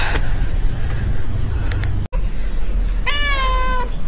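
A cat meows twice at moderate distance, a brief call early and a clearer drawn-out meow near the end, over steady background hiss and wind-like noise.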